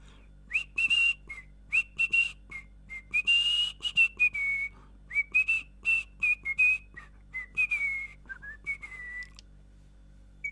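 A person whistles a tune into the microphone of a Little Live Pets My Really Real Bird toy, a string of clear bright phrases with short pauses between them, close and fairly loud, with no talking.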